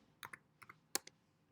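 Close, quiet keyboard typing: a few irregular clusters of sharp key taps with short pauses between them, then silence.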